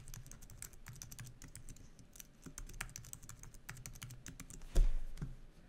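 Fingers tap out a password on a computer keyboard in quick, irregular bursts of soft clicks, fairly faint, ending in a slightly louder knock.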